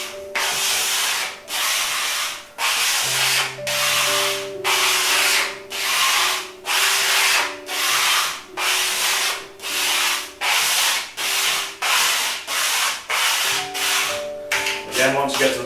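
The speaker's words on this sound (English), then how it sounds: "Get your spreader. Gently just do the top to get it flattened down. Then you're ready to spread across from the top" Plastic spreader rubbed across a vinyl wall sticker, giving about a dozen rhythmic, loud scraping strokes with short pauses between them and no voice over them.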